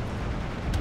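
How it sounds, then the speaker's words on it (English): Artillery explosions in the WW2 real-time strategy game Steel Division 2, a continuous low rumbling roar of blasts with a brief sharper burst near the end. "Oh, they've both been hit by artillery."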